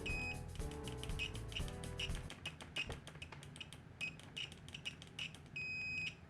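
A cheap SZBJ VC92 2kV multimeter gives a continuity beep through its default probes: scratchy, broken chirps at first, then a steadier latched tone, close and fairly loud with no talking.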